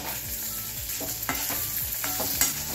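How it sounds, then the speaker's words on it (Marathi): Peeled, cut potatoes fry in oil over a medium flame, a constant close sizzle broken by regular scraping strokes of a spatula stirring the pan. "तर ते तेलात थोडंसं तळून घेऊया।"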